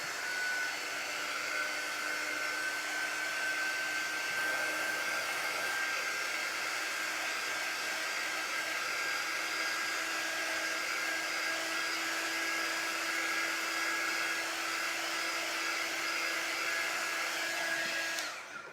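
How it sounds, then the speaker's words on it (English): A Magnolia heat gun running on high for crafting, with a steady, loud, continuous blowing whir and a faint high whine that holds unchanged for the full length before cutting off at the very end. "I'm just going to use my Magnolia heat gun"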